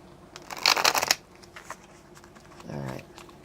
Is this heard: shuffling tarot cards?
yes